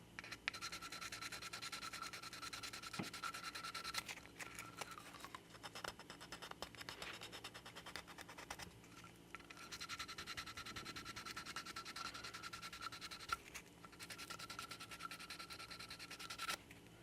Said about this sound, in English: We need to sand a little more.